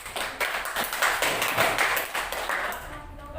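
A group of primary school pupils claps in a classroom, a run of fast, dense handclaps that stays busy for about three seconds before thinning out and trailing off.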